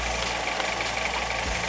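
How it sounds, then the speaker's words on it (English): A car engine idles steadily after a thermostat replacement, a constant low rumble with a faint knocking texture, close and even in loudness throughout, with no talking over it. "Now we're going to let the engine build up with some pressure."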